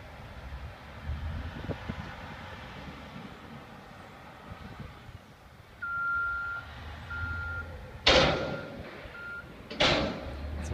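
A big dump truck lifts its bed and tips a load of salt onto a giant pile, its engine rumbling low and steady while reversing beeps chirp, then two sharp, loud metallic bangs ring out near the end.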